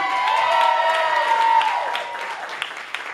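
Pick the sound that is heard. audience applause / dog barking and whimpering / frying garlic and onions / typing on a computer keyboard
audience applause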